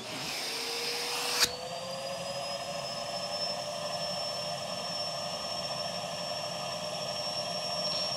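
A Henry PetCare canister vacuum cleaner switches on with a click and climbs to a steady, loud whine and roaring hum that continues without a break.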